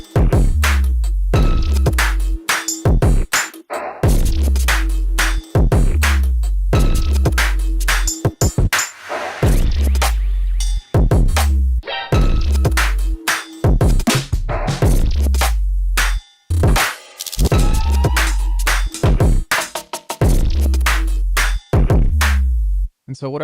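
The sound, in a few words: electronic music track made in Bitwig sampler with drone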